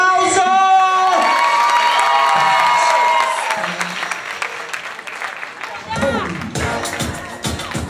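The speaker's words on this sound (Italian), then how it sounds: "Applauso!" A crowd at a drag queen show in Bologna breaks into applause and cheers, with shouts and whoops over clapping at the start, then the cheering fades while scattered clapping and voices continue.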